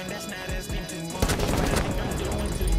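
Rapid gunfire in Rainbow Six Siege, starting with scattered close shots and swelling into a dense, loud volley of automatic fire that runs to the end.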